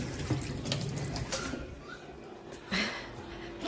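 Water runs steadily from a tap into a sink, a soft splashing stream with a few brief clatters and thuds of movement around it, fairly quiet and without talk.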